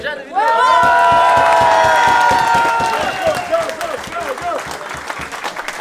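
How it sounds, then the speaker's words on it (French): Crowd applauding and cheering a rugby league coach at Trentels XIII, a dense burst of clapping and whoops at the start that settles into rhythmic clapping, with voices calling out among it. "on peut vraiment l'applaudir"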